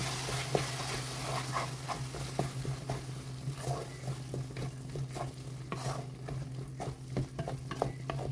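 Eggplant curry seasoned with salt and coriander powder is stirred in a pan, making repeated rhythmic scraping strokes over a low, continuous sizzle. Nobody speaks.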